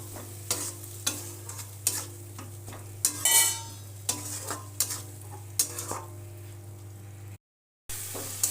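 Salt is stirred into a spice paste frying in a pan for a cauliflower, potato and tengra fish curry, a regular series of spoon scrapes and clinks over a steady sizzle, close by, with a brief gap near the end.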